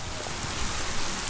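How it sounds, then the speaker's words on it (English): Heavy rain pours down in a dense, even hiss that fills the whole moment with no pauses and no voices. "Hour and a half later of rain."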